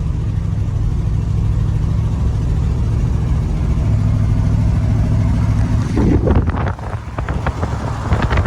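A 1975 International 200 pickup truck, found in a field, driving along with a loud, steady engine drone and heavy wind buffeting, then a brief clatter and dip near the end, with no one talking.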